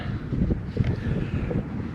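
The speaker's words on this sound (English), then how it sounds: "It's windier than I thought it was going to be." Outdoor wind gusts buffet a microphone with a continuous low rumble that swells and dips, loud and close, no voices heard.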